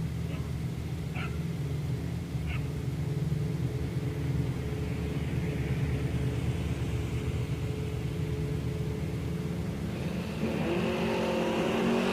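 Drag race cars, a brown Plymouth Duster and a Mustang, launch at Woodburn, Oregon, a steady loud engine roar running throughout and rising in pitch near the end as they accelerate away.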